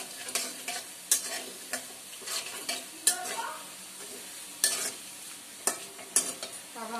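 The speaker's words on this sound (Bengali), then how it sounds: "পেঁয়াজটা ফ্রাই হয়ে গেছে, আদা বেগুন যাদের কালার এসে গেছে, ফ্রাই পেঁয়াজ ফ্রাই হয়ে যায়" Onion, ginger and eggplant sizzle steadily in a pan while a spatula stirs them, with sharp scraping clinks against the pan at irregular intervals, close up and without talk.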